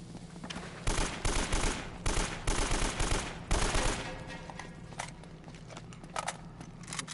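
Automatic gunfire from the video game Uncharted: Drake's Fortune comes in loud, rapid bursts for about three seconds, then gives way to quieter scattered shots and background game noise.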